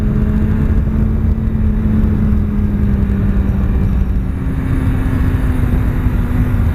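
A BMW S1000RR sport motorcycle accelerating hard on a rough, potholed road, its engine a loud, steady, continuous drone held close throughout with no talk over it.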